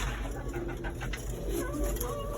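Breeder pigeons, including a silver male, coo softly and repeatedly nearby, with low throaty calls over a steady background murmur.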